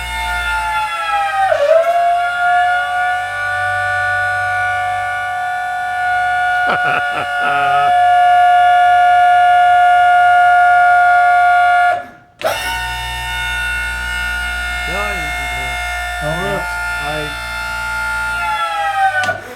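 A turboprop aircraft engine coming out of propeller feather as RPM is pushed to full increase, a loud steady tonal drone with a rising whine, a brief dropout near the end, then resuming while people talk faintly.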